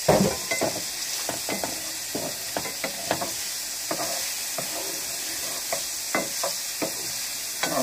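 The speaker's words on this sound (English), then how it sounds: "We'll add the jalapeno peppers" Jalapeño peppers added to a batch of shrimp frying in a pan, a steady hissing sizzle punctuated by regular stirring scrapes and taps, close up, no speech.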